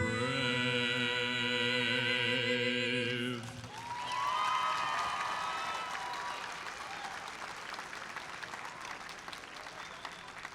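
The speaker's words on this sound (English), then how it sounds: "can we give them another huge round of applause?" After a sustained sung or played note ends, a crowd at a robotics competition opening ceremony breaks into broad applause with cheers, loud at first and then settling into a steady, slightly fainter clapping wash.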